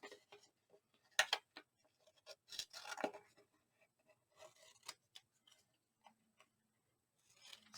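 Scissors snip out a paper stamp for a junk journal envelope, a handful of quiet, short cutting clicks spaced irregularly with pauses between, close and soft.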